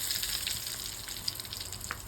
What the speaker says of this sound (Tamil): இப்போ கடுகு போட்டுக்கலாம்.